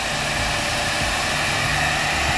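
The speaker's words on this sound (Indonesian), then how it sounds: "kita pakai hair dryer." Hair dryer blowing steadily to dry an Avanza Veloz car on an overcast day, a loud continuous close-up whoosh with a low motor hum, no speech.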